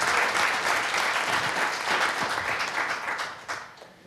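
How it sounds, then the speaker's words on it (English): Audience at a tax conclave panel discussion applauding the panelists, dense sustained clapping that fades toward the end. "let's have a huge round of applause for the panelists who are here"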